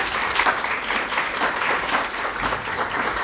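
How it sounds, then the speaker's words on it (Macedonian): Sustained applause from an audience, a dense wash of many hands clapping steadily throughout. "Аплауз за Луција."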